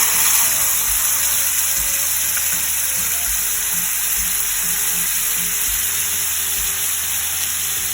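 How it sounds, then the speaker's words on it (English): Minced garlic and paste fry in a hot pan for Hyderabadi chicken 65, giving a loud, steady sizzle with occasional soft knocks of stirring and no voices. "Fry the garlic for a few seconds."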